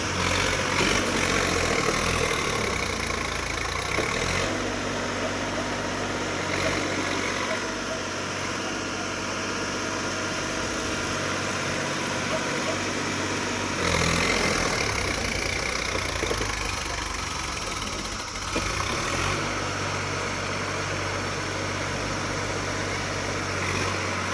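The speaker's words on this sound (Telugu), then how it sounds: "ఇంకొక ట్రాక్టర్కి మళ్ళీ తాళ్ళు కట్టి అది గుంజడానికి ట్రై చేశారు" A tractor engine runs hard as a second tractor, tied on with ropes, tries to pull out a stuck tractor loaded with 120 sacks. The loud, continuous mid-pitched drone shifts in load around five and fourteen seconds, and voices talk over it.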